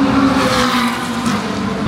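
Ferrari endurance race car in a World Endurance Championship race at COTA, pulling into the pits with a loud, steady engine roar and a continuous wash of broadband noise, no voices over it.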